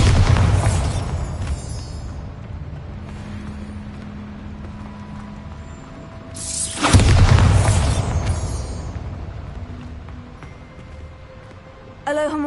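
A Bombarda spell blast in Hogwarts Legacy, a loud low boom erupting midway through ambient game sound, preceded by an earlier thump and followed by a fading rumble.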